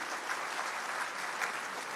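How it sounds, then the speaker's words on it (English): A crowd claps warmly and continuously at an eighth grade graduation ceremony, a thick, uniform patter of many hands without speech over it. "Please give him a round of applause again."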